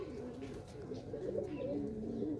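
Pigeons in a coop at a pigeon club, soft low cooing calls repeating in overlapping phrases close by, with no speech.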